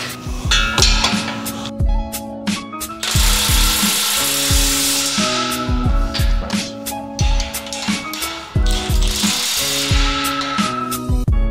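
Bolts are tightened while assembling a Bells of Steel Hydra six-post steel power rack: loud, close ratcheting clicks and ringing metallic clanks come in rhythmic bursts throughout, with no talking.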